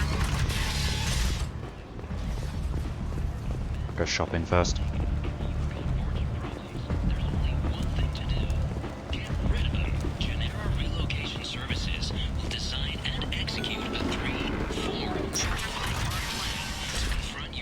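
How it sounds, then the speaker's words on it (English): Door mechanism in Mass Effect 2: creaking, clanking and whirring mechanical noises with a few sharp metallic clunks while a door works its way open, heard under ongoing game ambience and occasional talk. "That door was making all kinds of noises before it opened."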